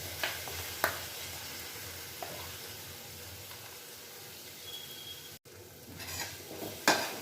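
Spice masala for chicken keema stirred and fried in a pan, a steady soft sizzle with occasional scrapes and clinks of the spoon, moderately quiet and continuous, no talk.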